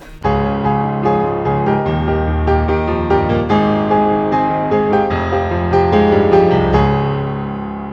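Piano plays a flowing arpeggiated pattern in the left hand beneath a right-hand melody, full and sustained, with no talking.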